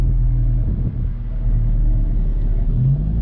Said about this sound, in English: Get a little bit of turbo noise as we pull up to the